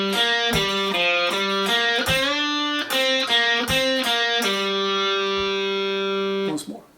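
Clean-toned electric guitar playing the opening riff of a song, a picked phrase with a bend and release and a final sustained note that rings out before a short scrape, played alone.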